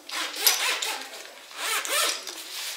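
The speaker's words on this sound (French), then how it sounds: "une belle housse bien solide, avec vraiment une grosse fermeture zip" A large, heavy zipper on a sturdy tripod carrying bag is pulled open in two long rasping strokes, close and clear, with a short pause between them.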